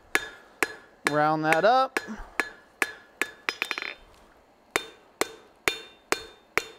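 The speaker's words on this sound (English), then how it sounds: "Then planish it up on the anvil." Hammer planishing forged metal on an anvil, sharp ringing strikes at a steady rhythm, close and clear, broken by a brief high whine and a short burst of quick taps; a voice speaks briefly.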